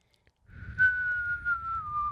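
A single person whistles one long, sustained, slightly falling note in imitation of a wrestling crowd, clear and close against faint low background rumble.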